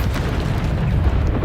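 The Bombarda blasting spell in Hogwarts Legacy sets off a heavy, rumbling in-game explosion, a loud low boom that fills the moment without any voice over it.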